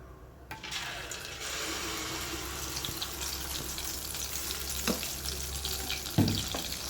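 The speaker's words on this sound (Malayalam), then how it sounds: "ചൂടായ എണ്ണയിലേക്ക് നമുക്ക് മാവ് കോരി ഒഴിച്ചു കൊടുക്കാമേ" Neyyappam batter poured into hot frying oil, giving a steady close sizzle and bubbling hiss that swells after the pour and continues with small pops.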